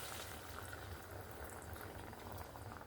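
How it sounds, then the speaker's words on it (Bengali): Water is poured into a pan of matar paneer curry with spiced potato and carrot, giving a steady bubbling, liquid rush at a quiet, constant level throughout. "এবার আমি এখানে দিয়ে দেব পরিমাণ মতন জল।"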